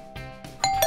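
A doorbell chimes nearby, two or three bright ringing tones in quick succession, clear against a quiet background.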